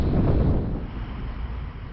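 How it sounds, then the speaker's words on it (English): Steady wind buffeting a microphone, a loud low rumble that eases slightly after the first half second and continues without voices. "It's nice, cool, windy day."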